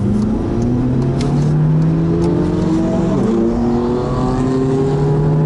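A VW Polo GTI accelerating on the Nurburgring Nordschleife, its engine climbing in pitch through the gears, loud and steady from inside the car.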